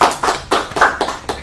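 Classmates clap in a classroom: a short burst of a few close, sharp claps in an uneven rhythm, with no talking.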